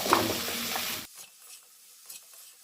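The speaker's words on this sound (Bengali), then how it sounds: "সব সবজিগুলো আমি এর মধ্যে মিশিয়ে দেব" Vegetables are stirred into a hot, sizzling pan for a spinach dish, giving a loud close sizzle and scraping for about a second before it drops to faint clinks and quiet frying.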